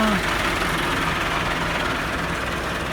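A Massey Ferguson 375 tractor engine runs steadily with a deep, continuous low rumble, close and loud, holding an even idle throughout.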